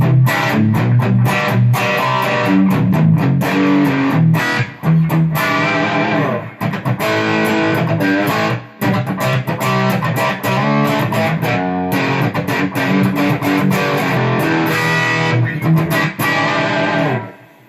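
Electric guitar played loud through a Boss Katana 100W head on its crunch channel, with driven, gritty classic-rock chords ringing continuously, broken by a few brief stops and rearticulations.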